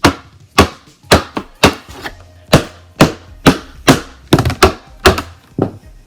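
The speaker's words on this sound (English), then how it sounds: "what I'm using for my floor tom is like the inside. You kind of have to rip it out, but you can just use any plastic thing" A homemade floor tom built from a ripped-out plastic container, struck about a dozen times in an uneven rhythm, each hit a close, loud, low thud that decays quickly with no talking.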